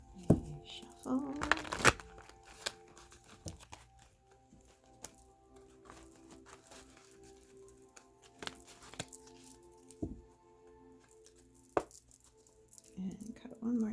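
Tarot cards being shuffled by hand during a reading, a burst of crisp riffling and papery rattling near the start followed by quieter intermittent card handling and soft taps, with a voice speaking at intervals.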